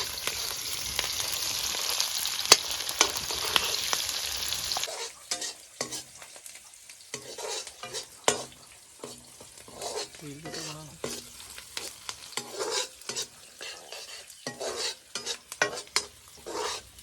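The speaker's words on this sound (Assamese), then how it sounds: "পিঁয়াজখিনি অলপ গল্ডেন ব্ৰাউন হোৱালৈকে লৰাই লৈছোঁ" Onions are stirred and fried in a pan until golden brown, a loud sizzle at first that drops to quieter frying under repeated close spatula scrapes and clinks.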